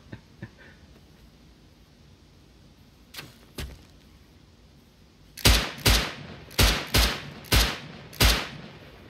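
Gunfire in the video game Rust, starting with a few faint, scattered shots and then a run of six loud, sharp reports in a steady rhythm, each with a short decaying tail; no talking.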